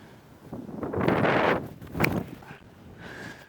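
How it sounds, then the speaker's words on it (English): Gusts of wind buffet the microphone in two strong rushes on a disc golf course, swelling and fading over a few seconds. "It is pretty windy"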